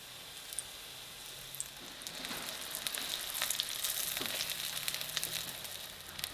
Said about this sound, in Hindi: बैटर हमारा थोड़ा सा बच गया था, उसमें मैं डिप करके ये फ्राई करूँगी